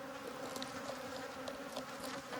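Honeybees from an established colony living in a water meter box hum in a soft, continuous buzz, with individual bees flitting briefly closer now and then.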